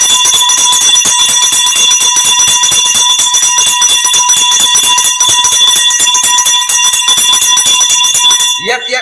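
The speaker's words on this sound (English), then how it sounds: "Ringing the bell for the big man." A bell rings loudly and without pause at a lively gathering, a steady metallic clangor sustained throughout before tailing off at the very end.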